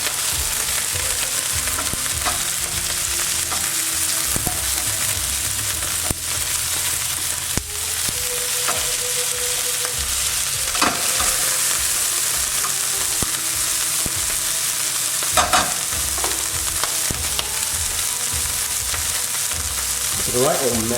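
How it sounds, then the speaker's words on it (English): Pieces of lamb sear in a hot pan with a continuous loud sizzle, with occasional scrapes and knocks from stirring and turning the meat. "we're not cooking it all the way through, we're just searing it, giving it some colour"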